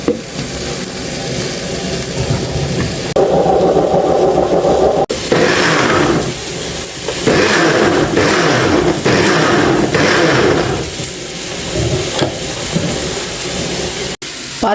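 A mixer grinder runs loud and continuous as it blends chili and ginger with a little water into a paste for a fiery coconut chicken curry. The whirring drops briefly around the middle and again near the end.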